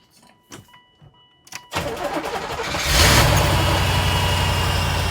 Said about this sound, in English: Should we try starting it and see what it sounds like?